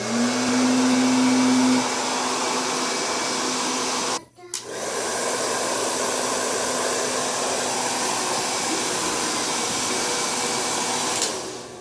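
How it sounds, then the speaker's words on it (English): A hair dryer blows steadily and loudly at close range, a broad continuous whoosh with a motor hum, briefly cutting out for a moment before resuming at full strength. "we'll be pushing objects of different masses with a hairdryer"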